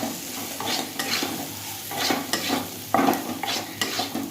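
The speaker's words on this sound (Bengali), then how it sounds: "জিরে গুঁড়ো দিলাম মশলাটাকে ভালো করে কষিয়ে নেব" A spice masala with cumin powder fries in a pan while a spoon stirs it, giving a steady sizzle broken by repeated scraping strokes, close and moderately loud, with no one talking.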